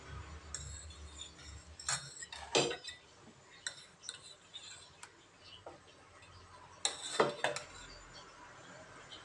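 A dosa griddle set on a stove and greased with oil, heard as scattered light metallic clinks and taps at irregular intervals, fairly close, with quiet room noise between.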